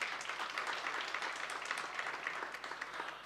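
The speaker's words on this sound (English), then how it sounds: "another round of applause" Audience applause fills a gala dinner at a labour law seminar, a steady, dense wash of many hands clapping at moderate distance, sustained evenly throughout with no speech over it.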